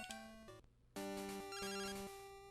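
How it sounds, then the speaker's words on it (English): A telephone rings in short, bright electronic bursts, fairly faint, with a brief pause in the middle before the ringing starts again. "I got a phone call in between video transitions"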